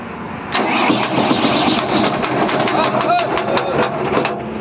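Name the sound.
Mahindra engine revving with knocking from damaged connecting rod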